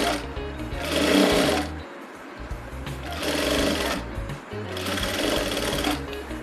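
A domestic sewing machine runs double stitching along a garment sleeve. Three loud, steady bursts of rapid mechanical stitching sound close up, with brief pauses between them and no speech.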